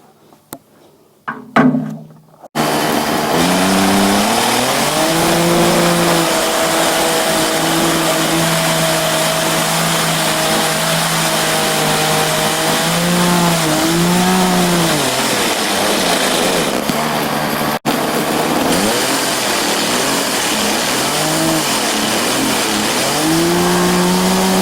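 A weed trimmer fitted with a knockoff hedge trimmer attachment starts with a few sputters, then runs at a loud, steady engine drone. The pitch rises and falls slightly as the throttle shifts, with a brief stumble near the end.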